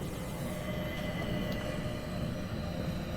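Steady rumbling carriage ambience inside a train in the Murder on the Orient Express video game, a continuous low rolling drone with faint rattles, constant and close throughout.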